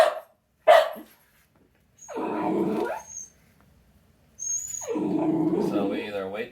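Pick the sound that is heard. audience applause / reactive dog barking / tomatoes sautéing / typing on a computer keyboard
reactive dog barking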